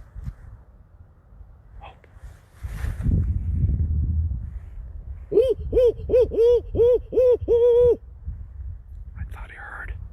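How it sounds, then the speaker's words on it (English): A barn owl gives a quick series of about six tonal calls, clear and fairly loud, after hushed whispering and rustling on a spring night walk. "I thought I heard a barn owl down the valley."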